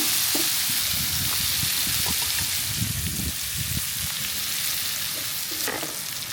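Ginger, garlic and chili paste frying in a pan in a village kitchen, a loud continuous sizzle with scraping stir strokes and soft knocks throughout, close up and without talk.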